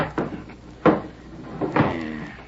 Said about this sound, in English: Better make sure the door's barred tight.